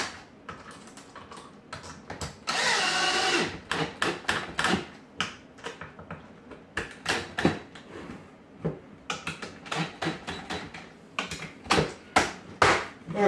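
Screws are driven into an MDF Tesla coil form, with one loud whirring burst from a driver followed by many quick, close clicks and taps that fall into an uneven rhythm, and nobody speaks.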